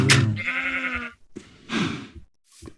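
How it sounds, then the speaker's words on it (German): Sheep in the Minecraft video game bleat three times in quick succession, the first call long and wavering, the next two shorter, loud and close with no talk. "Hier erstmal zwei Schafe paaren."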